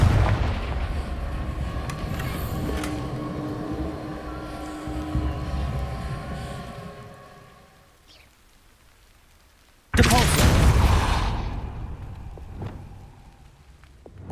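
Fiery Confringo spell blasts burst in the Hogwarts Legacy game, loud booming explosions with a rumbling tail, then a sharp second blast near the end.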